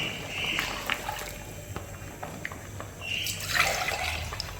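Milk pours and splashes into a pot for nasi lemak in two bursts, a trickling, gurgling stream close by with a brief pause in between.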